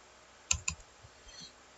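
A few quick close keystrokes on a computer keyboard, two sharp clicks followed by softer taps, entering a switch interface configuration command, then quiet.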